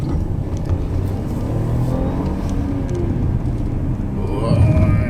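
Audi A7 Quattro engine pulling hard on a winding road, a rising rumbling roar heard from inside the car that swells again near the end.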